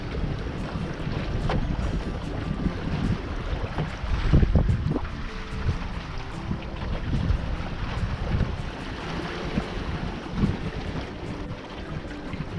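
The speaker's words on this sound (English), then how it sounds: "Lovely little breeze out here." Sailing dinghy cruising on Myall Lakes in autumn, steady wind buffeting and rushing past with water washing along the hull, continuous and fairly close, no voices.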